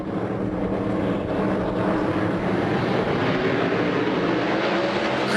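A field of NASCAR Whelen Modified race cars accelerates at a restart at New Hampshire Motor Speedway, a dense, steady engine roar that holds loud and unbroken throughout.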